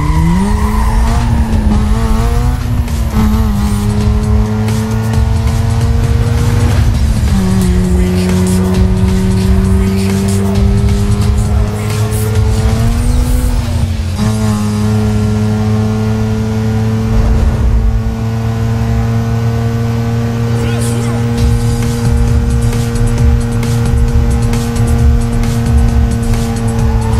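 A speeding car racing in NFS Most Wanted, engine roaring and revving steadily through gear changes with tire squeals, loud and close throughout, under faint police radio chatter.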